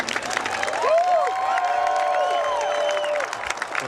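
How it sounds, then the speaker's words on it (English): An audience claps and cheers for Navy sailors at a 2010 homecoming ceremony in Lakehurst. A sustained round of applause mixes with crowd noise and faint tonal sounds in the background. "Will all guests please rise and join me in the loudest round of applause we can muster for these dedicated"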